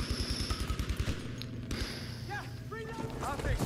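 A BAR M1918A2 fires rapid automatic bursts in a first-person shooter deathmatch, with sharp, rhythmic shots in the first half and scattered game effects and players' voices afterward.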